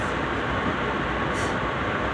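Steady rumbling roar of a metro train in motion, a constant dense rolling noise from inside the carriage with no break.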